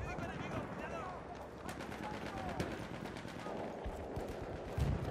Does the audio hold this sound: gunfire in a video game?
yes